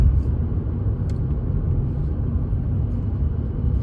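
A steady low engine rumble from a VW or Skoda with active cylinder technology running in third gear at about 40 to 50 km/h, switching to two-cylinder mode, heard from inside the car as an even drone with no speech.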